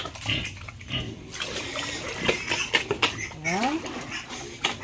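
Close-up pig grunts and wet chewing, snuffling at a trough, with a person speaking briefly in the background.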